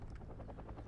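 A transport helicopter in the Wargame real-time strategy game, a faint, brief rotor thrum with rhythmic blade pulsing, distant and low.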